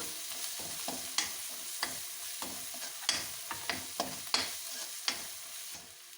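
Chilli powder, coriander powder and green chillies being stirred in a frying pan for a Punjabi radish-pod and potato dish, with a soft sizzle under a series of sharp spoon scrapes and taps against the pan.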